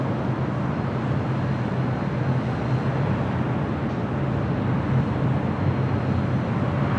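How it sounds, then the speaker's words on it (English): An Aeromexico Boeing 787 Dreamliner takes off from runway 25 Right on the south side of LAX, a steady broadband roar of jet engines that holds at an even level throughout, with no voices. "It's the Aeromexico Dreamliner heading back to Mexico City, taking off on 25 right there on the south side."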